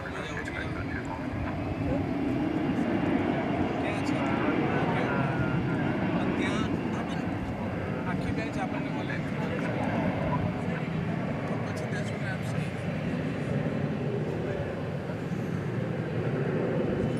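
An Airbus A380 taking off at Dallas/Fort Worth airport at night, a steady loud jet roar that holds for the whole stretch, with a voice talking faintly underneath.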